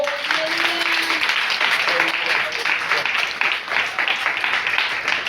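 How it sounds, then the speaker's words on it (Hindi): A church congregation claps steadily in praise during a Sunday sermon, a continuous wash of applause mixed with voices throughout. "ताली बजाकर प्रभु की स्तुति करो।"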